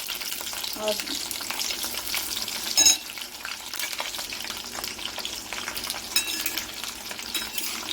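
Garlic fries in hot oil in a pan for an amaranth-leaf stir-fry, giving a steady close sizzle broken by occasional stirring clinks and scrapes of a utensil.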